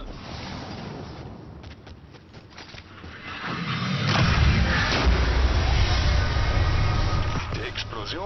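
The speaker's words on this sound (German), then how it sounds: "Die Explosionen habe ich bis hierhin gehört." Explosions in the video game Destiny 2, rumbling booms that swell into a loud, sustained roar mixed with mechanical clatter, heard under game sound and occasional voices.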